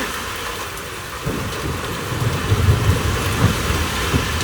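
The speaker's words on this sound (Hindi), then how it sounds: "आवाज़ आ रही है बादल गरजने की" Heavy rain pours steadily during a storm on the road from Kedarnath, a dense constant hiss with a few low rumbles of thunder rising in the second half, no voices.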